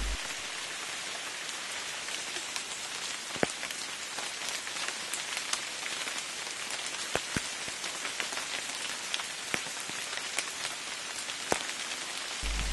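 Rain falls steadily on leaves in a Madagascar rainforest, a dense even hiss with scattered louder drips and drops, close and continuous with no voices.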